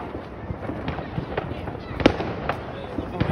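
New Year's Eve firecrackers crack and pop in a series of sharp bangs, with one louder burst in the middle, over a busy outdoor crowd where people are talking.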